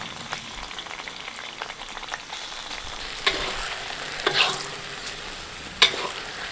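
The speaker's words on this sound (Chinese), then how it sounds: "然后把葱姜蒜倒进来。" Scallions, ginger and garlic sizzle and fry in caramelized sugar syrup in a wok for Sichuan-style braised pork belly, a steady crackling hiss with a few sharper spatters and stirring clinks.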